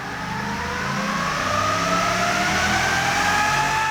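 A 2018 Ford F-250 pickup's engine revs hard on an in-house dyno, a loud sustained roar climbing steadily in pitch over several seconds.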